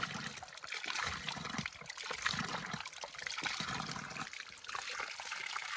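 Natural mountain spring water flowing down from a height between hills, a steady close trickling and splashing stream that runs continuously without pause.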